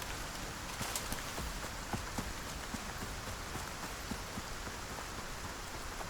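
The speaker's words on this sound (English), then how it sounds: "It's actually quite pleasant running around in the rain right now." Steady rainfall in the Icarus video game, a dense even hiss of drops with scattered small patters, constant and moderately quiet throughout.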